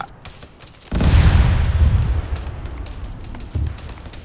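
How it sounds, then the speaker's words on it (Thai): A mortar explosion in the Arma 3 video game lands with a sudden heavy boom that rolls into a long rumbling decay, followed by a smaller thud, after a quieter stretch of faint background noise. "โอเคระเบิดมอล่า"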